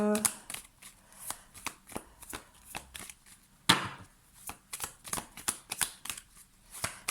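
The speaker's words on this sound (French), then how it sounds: "je vais voir quand même faire un tirage en croix" Tarot cards being shuffled and drawn for a cross spread: repeated crisp riffles and slaps, close and fairly loud, in an uneven rhythm with a short pause partway through.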